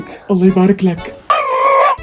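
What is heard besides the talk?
rooster crowing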